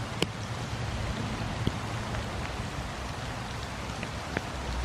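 Rain falls outdoors on a large, shady lot with trees, a constant even hiss with a few sharper drips standing out, heard on its own without voices.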